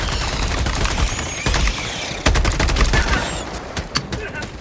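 Gunfire rattles in the video game Helldivers 2, with bursts of sharp shots and rapid automatic fire crackling loudly, under players' chatter.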